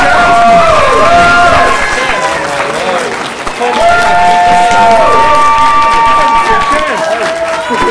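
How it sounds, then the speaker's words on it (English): Convention audience at the Rareware reunion panel at Game On Expo, loud sustained applause mixed with cheers and whoops, with a voice talking over the noise. "Another round of applause for these guys"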